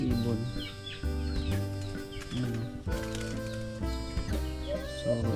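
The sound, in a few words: many pet birds clucking at a house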